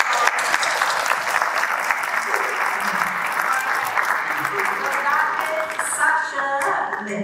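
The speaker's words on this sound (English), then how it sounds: "Give them a round of applause." Audience applause for speakers at the close of a business panel discussion on raising capital: steady, dense clapping from a room full of people, sustained for several seconds with a faint voice underneath.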